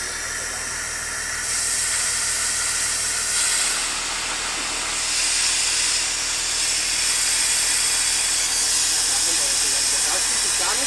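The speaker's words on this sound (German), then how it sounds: "Und die Reifen drehen nur durch." An expedition truck's tires spin in snow while the truck is stuck in winter, with a loud hissing, roaring engine that swells and eases in waves.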